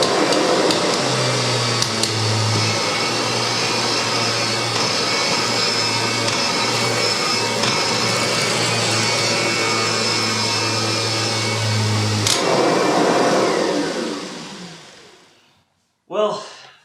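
A 30-year-old fully restored Kirby Generation 3 upright vacuum cleaner runs loud and steady, sucking up spilled cereal, cat litter and flour with a constant motor whine that cuts off near the end, then a brief thump.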